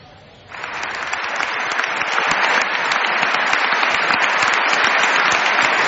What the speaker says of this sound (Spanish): Más de un minuto de aplausos ha recibido don Juan Carlos al término de su discurso